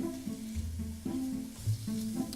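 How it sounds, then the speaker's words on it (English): Ground beef browning in a pan for taco zucchini lasagna, a steady close sizzle with soft stirring scrapes and low thumps from the pan, no talk. "we're just going to continue to cook this until it gets nice and brown"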